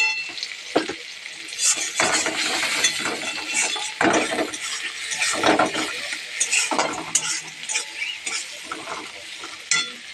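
Chopped onions fry in hot oil in a pan, with a steady loud sizzle broken by repeated scrapes and clinks of stirring throughout.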